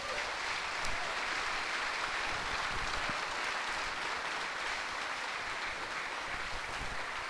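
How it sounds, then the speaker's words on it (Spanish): A church congregation applauding during a Spanish-language sermon, a steady, distant-sounding wash of clapping that stays even throughout with no talking over it. "¿Por qué no le da un fuerte aplauso al Señor?"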